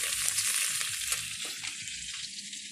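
Fish frying in oil in a pan for a home lunch, a steady close hiss of sizzling with occasional bursts of spattering, no talk.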